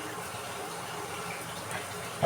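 A pot of water boiling hard on the stove, continuous close bubbling and roiling hiss, even throughout with a small bump at the very end.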